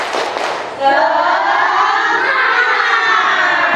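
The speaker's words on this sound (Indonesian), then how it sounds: "1, 2, 3, tepuk semangat" A classroom of Indonesian schoolchildren bursts into a loud, sustained group chant of the tepuk semangat spirit cheer, many young voices shouting together close by after a brief quieter start.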